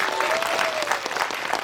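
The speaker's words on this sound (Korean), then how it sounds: "박수 한번 부탁드리겠습니다." An audience at a film talk event for the movie 12.12: The Day applauds with a dense, loud burst of clapping that holds steady throughout the short moment.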